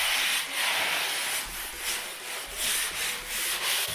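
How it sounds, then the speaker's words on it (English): A sponge sanding block is rubbed lightly over a plasterboard wall patch, making close, steady scratchy strokes that swell and fade in a regular back-and-forth rhythm. "just a light sand with a sponge sanding block"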